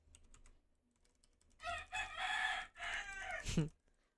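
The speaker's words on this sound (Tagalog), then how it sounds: "Naririnig nyo yung manok, pare?" A rooster crows loudly in a long drawn-out call, with faint clicking of keys in the background before and after.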